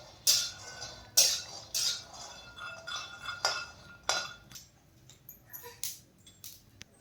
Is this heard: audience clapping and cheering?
no